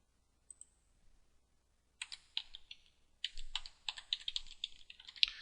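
Typing on a computer keyboard in a quiet room: one isolated click, then a short burst of keystrokes followed by a quicker, denser run of clicks, close and fairly faint.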